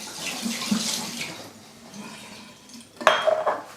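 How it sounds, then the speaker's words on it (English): Water from a glass splashes and pours onto snowboard pants during a waterproofing test in the snow, a short wet burst near the end after quieter rustling. "I'm about to dump a glass of water and test out the waterproofing"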